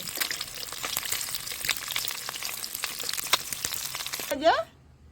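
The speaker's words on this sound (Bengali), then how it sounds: "একটা একটা করে ডিমগুলোকে আমি ভেজে নেবো" Turkey eggs fry one by one in hot oil in a wok, a dense close crackling sizzle with spitting pops that cuts off abruptly near the end.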